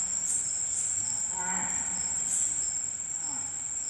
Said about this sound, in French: Vous allez entendre un singe nasique,